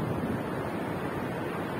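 Steady roar of waves breaking on a south coast beach where people are fishing, a dense continuous wash mixed with wind buffeting the microphone, with no voices.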